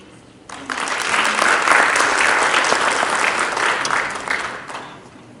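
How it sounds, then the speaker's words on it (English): A symposium audience breaks into steady applause, many hands clapping in a close, even roar that rises quickly, sustains for a few seconds, then fades out. "Please give me a round of applause."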